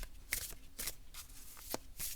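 A deck of The Archeo oracle cards being shuffled by hand, with repeated soft riffling bursts in a steady rhythm, close and clear, with no talking.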